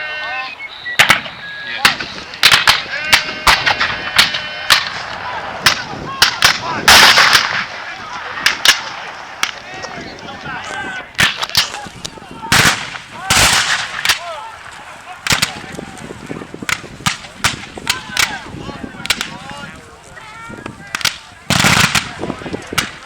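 Infantry musket and rifle volleys at a Brooksville Raid Civil War battle reenactment, sharp cracks fired singly and in ragged clusters throughout, some near and loud, others distant, with faint voices between shots.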